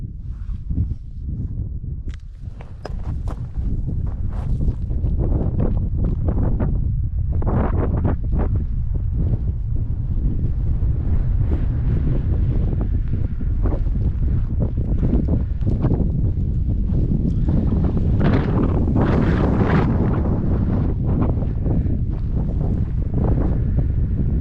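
Steady outdoor wind roars and buffets the microphone at Badlands National Park in South Dakota, a loud, continuous low rumble with gusts throughout and no voices.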